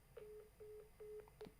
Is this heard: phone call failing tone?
yes